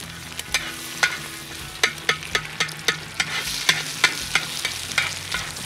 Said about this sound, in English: And we scramble them for breakfast